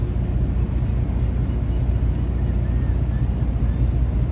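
A small boat idles on the water near a cement piling, its steady low engine drone and water wash holding constant and fairly close.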